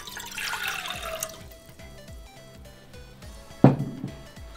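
Water poured into a pot while preparing miso soup, a low continuous splashing stream with a sharper splash near the end, close and fairly quiet, alone without talk.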